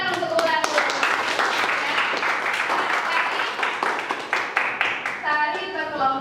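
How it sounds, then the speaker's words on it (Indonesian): A classroom of pupils claps their hands together for several seconds in dense, continuous applause during an Indonesian teaching lesson on group dance. A teacher's voice can be heard faintly near the end. "tepuk tangan untuk ulang"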